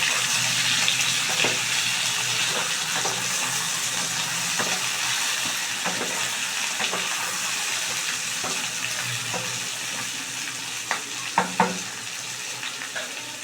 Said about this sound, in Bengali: আবার আমি মিশিয়ে নিচ্ছি।